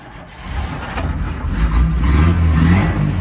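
An old hot rod engine at a car show turns over and catches, its low rumble swelling into a steady, close idle.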